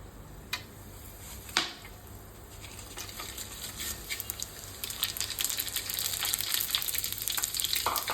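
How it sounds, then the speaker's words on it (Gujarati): Dry spices hit hot oil in a pan on a gas stove and start sizzling and frying. A couple of sharp clinks come first, then the crackling builds into a steady, close sizzle. "તેલ આવી ગયું છે. તો હવે આપણે સૂકા મસાલા તેમાં નાખશું."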